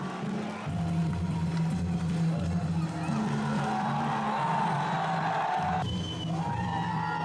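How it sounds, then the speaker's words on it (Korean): A crowd cheers and whoops continuously through a military parade in northwest India, as soldiers march at a border ceremony, a loud, dense roar of voices that stays steady throughout. "아낌없는 환호 속에 군인들이 힘차게 행진을 이어나간다"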